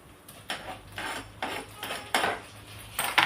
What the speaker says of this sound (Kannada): ಇವಾಗ ನಾನು ಟೊಮೆಟೊ ಹಾಕ್ತಾ ಇದ್ದೀನಿ